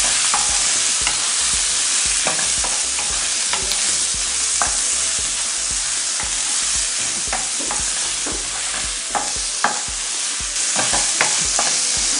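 Onions frying in a pan with a loud, steady hiss and sizzle up close, punctuated by repeated scraping and knocking as they are stirred, with no voices.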